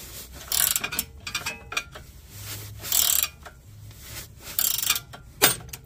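Metal ratcheting and scraping as a tie rod end nut on a Hyundai Sonata Limited is tightened, with several bursts of clicking wrench work at close range and brief pauses between them, no talking.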